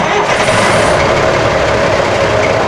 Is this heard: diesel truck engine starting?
yes